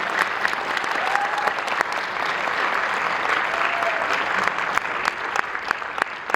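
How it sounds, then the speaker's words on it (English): Sustained applause from a crowd at a middle school winter orchestra concert, steady clapping at an even level that continues throughout without fading. "Can we have another round of applause for Brandy on his composition premiere?"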